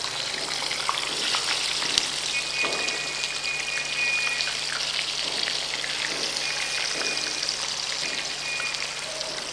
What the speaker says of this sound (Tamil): ஓரளவுக்கு நல்லா ஒரு சைடு ஃப்ரை ஆனோன்னே நீங்கள் வந்து சைடை டேர்ன் பண்ணி அதர் சைடை வந்து நல்லா வந்து ஃப்ரை பண்ண வைங்க